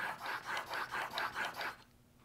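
A new bench chisel's back slides over a sharpening stone in about six steady, rhythmic rasping strokes, close and clear, then the rubbing stops.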